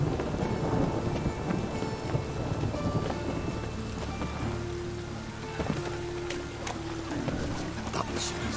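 Steady rain with low rumbling thunder in The Witcher 2 video game, a continuous dense wash of rainfall with occasional sharper spatters and a faint tonal hum underneath, no voices.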